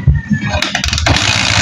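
A Honda TMX 155 motorcycle engine sputters and then runs with a quick, uneven putter, loud and close, with a sharp burst of noise partway through.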